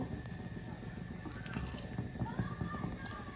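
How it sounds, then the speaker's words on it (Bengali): Water pours into a pot of simmering raw jackfruit curry with shrimp, a soft, close, continuous splashing and trickling with faint bubbling underneath, fairly quiet throughout. "এখন আমি পানি অ্যাড করে দিচ্ছি"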